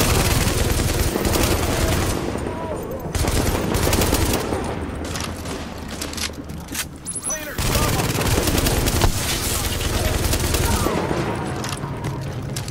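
Sustained, loud gunfire from a turret giving suppressive fire in The Division video game, dense and continuous for most of the stretch, with brief dips and layered game effects.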